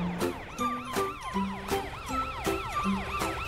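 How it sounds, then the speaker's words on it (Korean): A cartoon police car's siren wails in a steady repeating up-and-down pattern, loud and close, with rhythmic electronic beeps layered over it and no voices. "경찰차 매트야."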